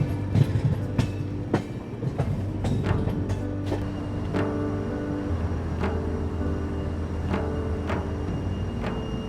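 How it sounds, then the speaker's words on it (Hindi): Rajdhani Express train arriving at New Haflong railway station, with a continuous rumbling roll and a rhythmic clickety-clack of wheels over rail joints, loud and close throughout. "और ये खूबसूरत अराइवल हो रहा है न्यू हाफलोंग रेलवे स्टेशन में"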